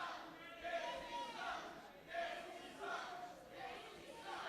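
A wrestling crowd at a PowerBomb Wrestling event in Toledo chants at Sean Casey, a steady roar of many voices rising and falling in rhythmic waves throughout.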